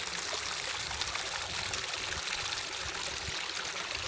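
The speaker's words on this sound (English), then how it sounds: "Small waterfall." A small waterfall stream in Lofoten pours and splashes continuously nearby, a steady full rushing hiss without pause or voices.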